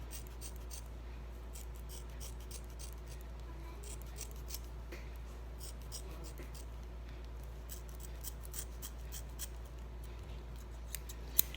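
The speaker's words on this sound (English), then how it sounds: "So you cut this weft off." Scissors snip through the weft of hair extensions with a long run of rapid, faint close-up clicks and crisp cuts over a steady low hum.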